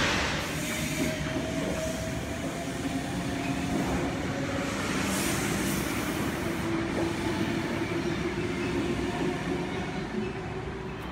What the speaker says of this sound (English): and it's also the old train